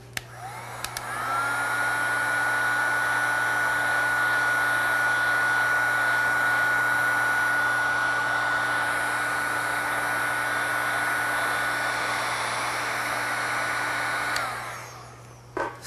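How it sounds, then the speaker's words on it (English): A heat gun blows hot air onto a miniature clay pot, a steady loud whooshing roar that starts abruptly, holds for about thirteen seconds with a faint whine, then cuts off. "So I'll take my heat gun."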